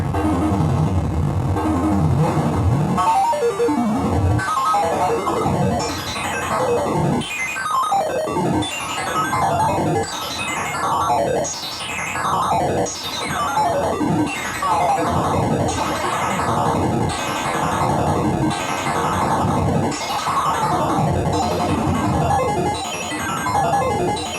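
A Soulsby miniAtmegatron synthesizer plays a loud, continuous pattern while a resonant filter sweeps up and down over and over, giving a rhythmic whooshing, wah-like tone.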